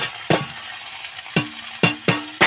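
Ground spices tipped into a pan of fried onions while cooking Bengali mustard fish curry, giving a steady close sizzle punctuated by four sharp scraping stir strokes, with no talking.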